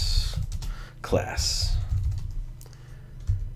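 Computer keyboard typing while a formula is entered into an Excel spreadsheet, a few quiet keystrokes mixed under a man's steady spoken explanation, with a short louder burst around the middle.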